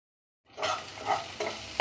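Curry leaves dropped into hot oil over ginger-garlic paste while masala Maggi noodles are being made, giving a sudden crackling sizzle after a brief silence, with a few louder bursts and stirring, close and alone.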